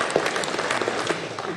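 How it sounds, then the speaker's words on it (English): A small crowd at a Raspberry Pi community meetup in Bristol claps for a helper, a loose indoor patter of hands at moderate loudness, fairly brief and without speech over it. "So, big round of applause for Kate."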